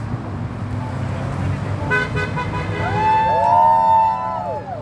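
Car horns honk over steady traffic noise at a street protest in Visalia, California, a few overlapping toots rising to a long sustained blare near the end.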